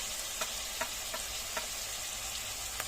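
Ground turmeric and chili powder frying in hot oil for a loitta fish curry, a steady soft sizzle with faint scattered crackles and pops, no voices.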